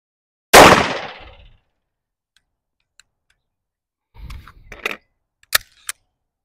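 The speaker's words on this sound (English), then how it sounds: "Single shot." A single pistol shot through a Dead Air Mask suppressor cracks loudly and close, then fades quickly. Quiet clicks and handling noises follow a few seconds later.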